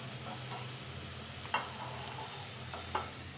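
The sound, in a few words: cabbage being stirred and softened in a frying pan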